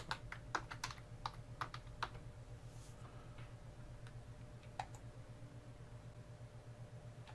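Someone types a Wi-Fi password on a computer keyboard during Raspberry Pi gateway setup: a quick, close run of light key clicks, then a pause and a few scattered taps over a steady low electrical hum.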